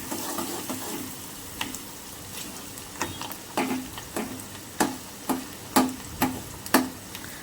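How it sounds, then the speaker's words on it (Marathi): Finely chopped onion frying in a pan for Maharashtrian mutton rassa, a soft steady sizzle broken by a series of sharp spoon clacks and stirring scrapes that grow more frequent toward the end. "व्यवस्थित त्यालाही आपण फ्राय करून घेणार आहोत"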